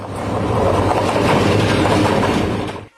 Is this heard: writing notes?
no